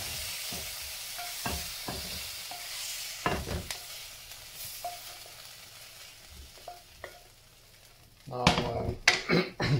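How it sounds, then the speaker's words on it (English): Chicken pieces fry in a pan with a soft steady sizzle, broken by scraping stirs and clinks of a utensil, growing into louder bursts of stirring near the end. "frying up some chicken"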